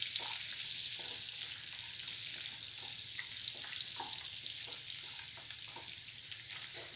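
Ginger and garlic sauté in a pan for a matar paneer, a steady bright sizzle running continuously with faint stirring scrapes and clinks underneath.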